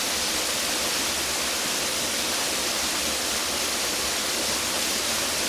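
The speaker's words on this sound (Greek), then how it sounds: "Εδώ το νεράκι είναι γάργαρο, είναι εκπληκτικό, δροσερό, παγωμένο" Cold mountain stream water gurgles and rushes steadily beside a village in Trikala, Greece: a dense, loud, unbroken wash of flowing water with no pauses and no voices.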